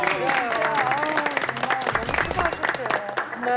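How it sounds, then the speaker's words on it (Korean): A studio audience on a Korean television health talk show breaks into sustained applause, a dense, even wash of clapping with voices talking over it throughout. "다 같이 박수 한번 드려요."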